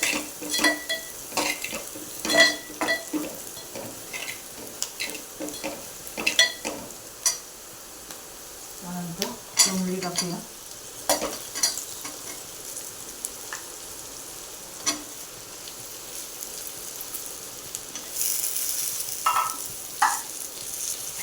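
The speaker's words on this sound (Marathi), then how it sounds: "मसाला लाल तिखट चवीनुसार हे सगळे मिक्स करून घेऊया" Spices stirred into ivy gourd (tondli) curry in a pan, with a quiet sizzle, scattered scrapes and taps of a spoon against metal, and a steady frying hiss continuing throughout without talk.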